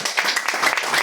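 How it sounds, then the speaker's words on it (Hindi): Brief burst of applause from a small indoor gathering at a sales meeting, a quick flurry of hand claps lasting about a second. "ताली।"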